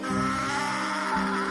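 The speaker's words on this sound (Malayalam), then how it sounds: "കഴുത മൂങ്ങി, വീണ്ടും മൂങ്ങി." A donkey brays in a short, sustained, tonal call, clear and fairly close, with no talking.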